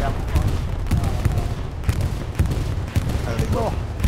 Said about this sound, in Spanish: nos estamos pegando tiros aquí